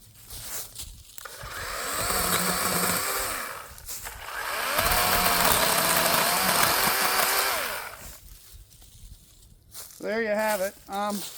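DeWalt 20V Max compact cordless 12-inch chainsaw cutting wood in two sustained buzzing bursts with a pause between them, followed by a brief voice speaking at the end.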